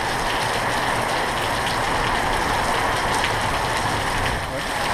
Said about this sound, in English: I got some rain coming.